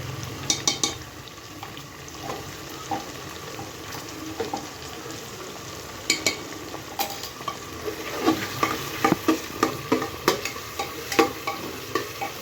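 A spoon scrapes and clatters in a pressure cooker while onion, tomato and peas sizzle and fry, with irregular stirring knocks over a steady hiss, close by and with no talking.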